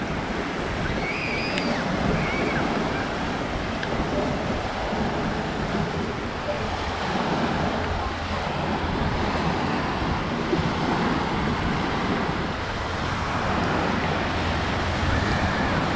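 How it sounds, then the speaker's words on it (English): Ocean waves on a Prince Edward Island beach, a continuous broad wash of surf mixed with wind noise on the microphone, steady throughout with no distinct breakers standing out. "waves are a little bit active, not too much."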